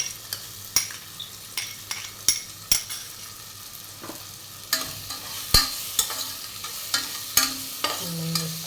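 Onion with ginger and garlic fries in a pan for an egg curry in coconut milk, a continuous sizzle broken by regular sharp scrapes and clinks of a spoon stirring against the pan, close and without speech.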